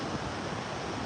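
Ocean waves crash and surge continuously on an outdoor shoreline, a loud broadband wash of surf with wind rumble filling the whole moment, no voice over it.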